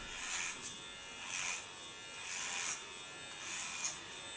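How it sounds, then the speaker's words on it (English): Electric hair clipper buzzing while cutting a super short hairstyle, close and fairly quiet, with a few brief swells as the blade passes over the head and no speech. "Go over to the first clipper again."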